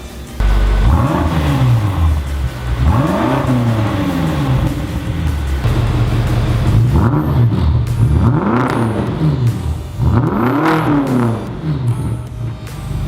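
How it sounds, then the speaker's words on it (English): A 2018 BMW X5M fitted with a Fabspeed axle-back exhaust revs five times in a row, each rev swelling up and falling back. The engine is loud and close, and nobody speaks. "So I'm gonna give you guys some revs and you guys can see how it sounds."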